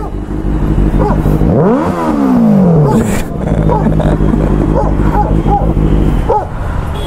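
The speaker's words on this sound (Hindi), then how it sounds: "यार भाई कुत्ते आ गए भोंकने के लिए" Dogs bark and yip repeatedly in a public place, the barks ringing out close and loud over a constant revving motorcycle engine.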